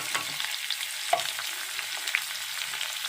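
Onions and green chillies frying in a pan while being stirred, a steady bright sizzle with scraping strokes of the spoon, close and continuous with no talking.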